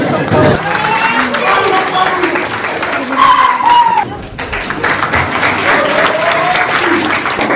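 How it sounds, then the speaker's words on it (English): Clapping from the audience at a citizenship ceremony in Auckland, a steady patter of hands throughout, mixed with voices and room murmur. "Tired of clapping after 7 people"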